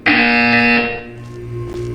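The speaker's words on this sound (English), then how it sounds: "You will hear a buzzer." Loud electronic buzzer from the Portal 2 video game, a single sustained harmonic tone that sounds alone for about a second, then fades into a lower hum.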